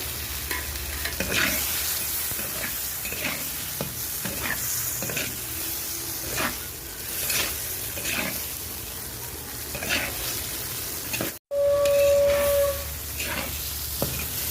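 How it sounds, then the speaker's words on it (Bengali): Large prawns fry in oil-released masala in a clay kadai, giving a steady soft sizzle with intermittent stirring scrapes, then a brief cut and a louder hissing burst near the end. "চিংড়ি মাছ মশলার সঙ্গে অনেকক্ষণ সময় নিয়ে কষিয়ে নিচ্ছি"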